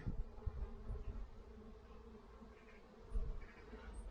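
Honeybees buzz steadily around an open beehive while a colony is being split, a dense close hum with a few louder swells as bees pass near.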